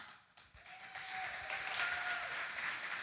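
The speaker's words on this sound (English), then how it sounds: "Nice round of applause" Applause from the audience at the Ms. Senior Alabama 2025 pageant rises from a quiet start into steady clapping, moderately distant, with a faint sustained tone running beneath it.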